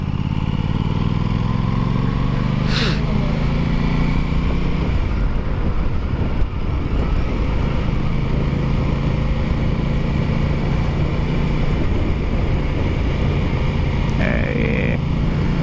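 An Aprilia Tuono 660 motorcycle riding along, its engine droning steadily and loudly with shifts in pitch as it changes speed, wind rushing throughout.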